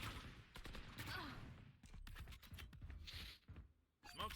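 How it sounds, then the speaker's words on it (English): Rapid bursts of rifle fire in a competitive tactical shooter match, sharp crackling shots in quick succession mixed with game sound effects and faint voices. "Some rounds go down range."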